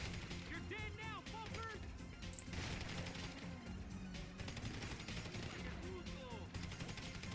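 Blind gunfire in the video game GTA V, faint bursts of shots set low in a busy game mix with chirping effects and background noise, no clear talk.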